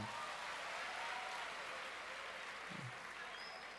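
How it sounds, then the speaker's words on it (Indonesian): A crowd gives a round of applause during a speech by Dedi Mulyadi, a soft, even patter of clapping that sounds distant and holds steady throughout, with no voices over it. "Tepuk tangan."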